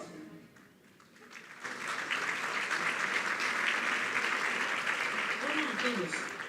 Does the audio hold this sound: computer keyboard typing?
no